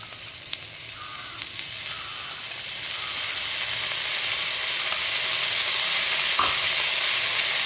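Amaranth stems frying in a pan with ginger and green chili paste, a steady close sizzle that swells louder midway and holds, with faint stirring scrapes and no talk.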